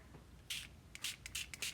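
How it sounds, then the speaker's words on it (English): Shimmer paint misted from a small spray bottle onto a papercraft project, a series of four or five short, soft hissing spritzes in quick succession, close and fairly quiet. "I'm just spraying it up like that, as much or as little as you want."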